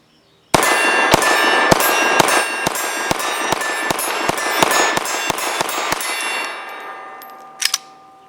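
A Lionheart LH9 pistol fires about ten sharp, loud shots in a brisk steady rhythm, each with a ringing clang and echo, followed by a pause and a faint double clack of the action.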